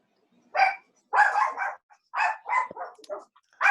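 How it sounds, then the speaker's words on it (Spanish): A small dog yaps in a quiet room, a run of short sharp barks in irregular bursts, close and clear with no talk over it. "El perrito quiere hablar."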